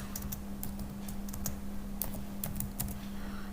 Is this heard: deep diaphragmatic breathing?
no